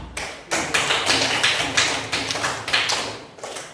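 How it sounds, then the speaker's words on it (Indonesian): Rhythmic group hand clapping in a school classroom, a run of sharp, fairly loud claps landing about every half second, with a little background noise between beats. "Ya, tepuk tangan dulu nah."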